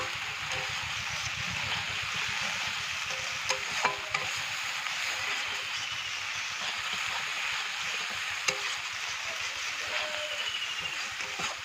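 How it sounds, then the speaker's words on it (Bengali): A spice paste with cumin and coriander powder and salt sizzles and is stirred in a pan for a village-style fish curry, a continuous close frying hiss with a few faint knocks. "দেখুন মশলাটা কষানো হয়ে গেছে"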